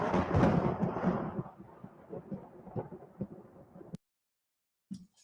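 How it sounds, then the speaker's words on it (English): A thunder sound effect plays: a deep rumbling crash that rolls and crackles for a few seconds, then cuts off abruptly, followed by a brief faint thump, loud and close with no talk. "Like thunder and lightning."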